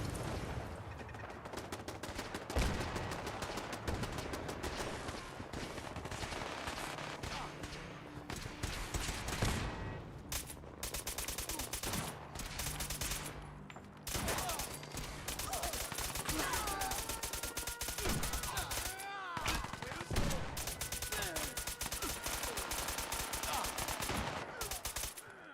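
Gunfire in the Wasteland Warrior video game on very hard difficulty, dense bursts of shots running steadily through a loud, busy mix of game sound that fades briefly in a few short gaps.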